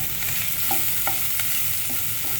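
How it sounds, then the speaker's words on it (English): Onion pieces frying in hot oil with urad dal, cumin, mustard seeds and curry leaves, producing a constant close sizzle broken by a few light stirring taps. "Now I am going to add onion pieces,"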